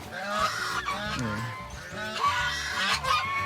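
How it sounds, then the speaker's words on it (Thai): Repeated loud honks from a male goose, harsh and close, overlapping in a noisy burst with steady background noise. "นี่อยู่ข้างนอกนี่ตัวนึงห่านครับ ตัวผู้ครับ"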